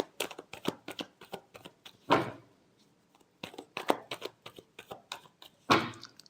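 Tarot cards shuffled in rapid bursts of crisp riffling clicks, with two fuller, louder shuffle sweeps midway and near the end, close up and with no talking.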